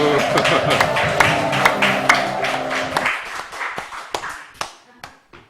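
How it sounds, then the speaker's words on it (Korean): Audience clapping at a church Sunday-afternoon Bible memorization quiz contest, a dense round of claps mixed with music and voices that thins after three seconds into scattered, separate claps. "박수"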